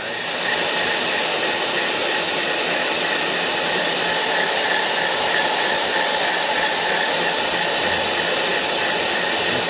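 A PF 175 line boring machine on power feed drives a big-diameter carbide cutter through a bore, making a steady, loud, continuous whirring grind with no pauses.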